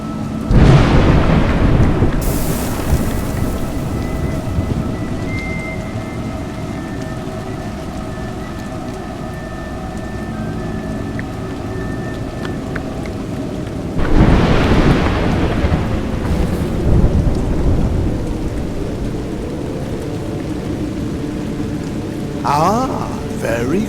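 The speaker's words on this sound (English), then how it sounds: "You seem surprised that rain comes from the heavens." Rain and a thunderstorm in the video game A Juggler's Tale, with a steady wash of rainfall and two loud rolling thunder rumbles, near the start and around the middle, under occasional quiet game sounds.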